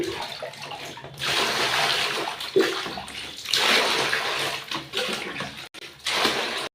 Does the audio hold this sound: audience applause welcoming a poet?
no